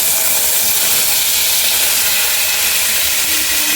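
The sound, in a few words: tomato added to hot tempering oil, sizzling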